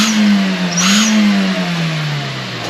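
A car engine fitted with an aftermarket turbo whistle device revs briefly, a steady engine hum with a rising and falling tone and a short high whistle burst near the start, loud and close.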